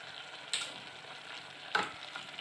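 Mutton being stirred with salt and ginger-garlic paste in a pan for curry: a low, steady sizzle runs throughout, with two sharper scraping clinks of a spoon against the pan, no talk.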